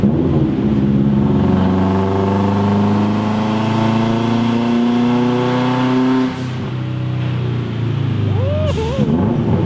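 An all-wheel-drive Mazda Miata engine on a dyno drones loudly at steady high revs, rising gradually in pitch, then briefly drops and climbs again, heard close up with no talking.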